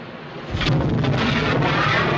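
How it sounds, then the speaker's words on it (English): Airship cannons firing in the game Leviathans: Monsters In The Sky, a heavy, rumbling boom that swells after a brief pause and rolls on loudly like distant thunder. "We're opening fire, sir."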